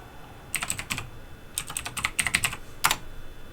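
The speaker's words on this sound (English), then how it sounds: "I'm just going to type Raspberry, same password." A password is typed on a computer keyboard while a Raspberry Pi 3B+ is being set up. Quick clusters of crisp, close key clicks come in short runs with brief pauses, and no one speaks.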